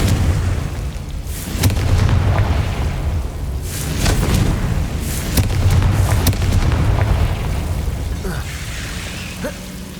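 Confringo fire spell blasts in a Hogwarts wizard video game, a rumbling series of booming explosions and crackling bursts over a continuous low game soundscape, loud and close throughout.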